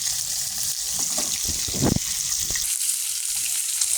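Pieces of fish fry in hot oil in a home kitchen, a steady soft sizzle that carries on throughout, with a few low knocks and clatters from the pan.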